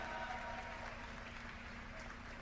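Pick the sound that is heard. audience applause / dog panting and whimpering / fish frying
audience applause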